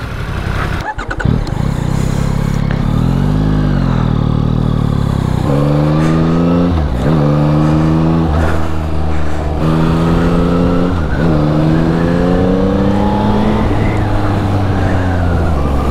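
Yamaha R1 sport motorcycle engine under way on the road, a steady loud roar with repeated rising revs through the gears and brief dips at each shift, continuous and close throughout.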